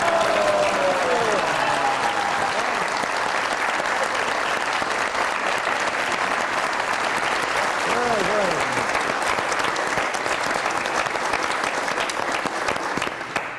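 A studio audience on the comedy talk show Mazaaq Raat applauds guest Mustansar Hussain Tarar with loud, steady clapping that lasts the whole stretch, with a faint voice rising briefly near the start and again midway.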